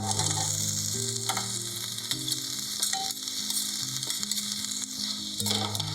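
Capsicum frying with garlic, onion and ginger paste in a pan, a loud steady sizzle with occasional stirring clatter and a faint tonal hum running underneath.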